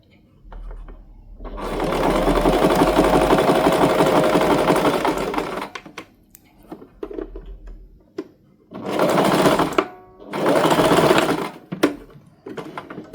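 Sewing machine zigzag stitching elastic, with a long loud continuous run followed by two shorter bursts. Quiet handling noises and pauses fall between the bursts.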